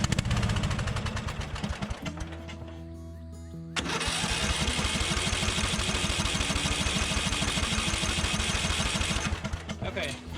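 Flooded small engine cranked over and over with the fuel off: rapid, loud, close chugging pulses, a short gap, then another long sustained run of cranking that never catches.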